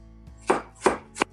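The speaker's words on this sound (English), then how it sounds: "they chop onions, like they slice onions on the side" Knife slicing onions for Turkish lahmacun: three crisp cutting strokes in a short, fairly close run, each a brief bright chop with no talking.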